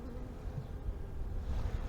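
A steady, dense buzzing of many honeybees humming close by inside a hive, a continuous low drone that swells slightly toward the end.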